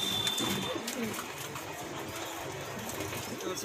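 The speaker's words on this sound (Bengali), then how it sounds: "এখানে একজোড়া ব্ল্যাক হুমা, কালো হুমা।" A pair of Black Huma pigeons, also called black Huma, coo softly at close range over a dull background hum, low repeated calls with no clear speech.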